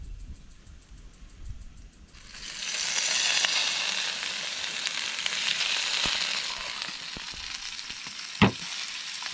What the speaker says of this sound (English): they're starting to sizzle up nicely on the shell side down.